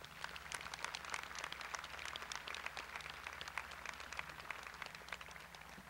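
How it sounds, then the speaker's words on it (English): Steady crowd applause at a 2011 Clear Creek High School graduation ceremony, dense clapping sustained evenly throughout and heard from a moderate distance in a large hall. "Let's give them a nice round of applause for all they have done for us."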